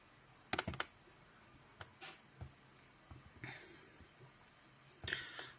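Quiet keystrokes type the word registry into the Windows search bar: a quick cluster of clicks, then a few scattered taps and a softer rustle, all close and faint.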